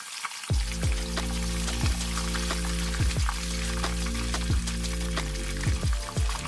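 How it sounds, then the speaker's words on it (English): Cracklings frying in hot oil for pretzel chicken, a steady close sizzle with bright crackle throughout, joined by repeated low sliding tonal sweeps and a sustained hum underneath, with no voices. "Watch these cracklings just start doing their little dance. Listen to them."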